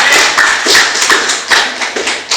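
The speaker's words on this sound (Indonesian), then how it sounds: "Ini berikan aplaus dulu." Audience at a podcast gathering of university lecturers clapping close and loud, with a dense patter of many hands that rises and falls in short swells.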